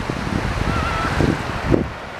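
Ocean waves and surf wash steadily onto a beach, their loud hiss mixed with wind buffeting the microphone and a couple of brief knocks near the end.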